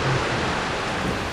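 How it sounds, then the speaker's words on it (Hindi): Heavy rain pours down outdoors, a steady, dense hiss that stays loud and even throughout with no voices. "यार, जोरदार के बारिश हो रही है।"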